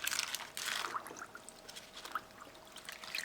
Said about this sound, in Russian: Сминаем пергамент и мочим его хорошенько.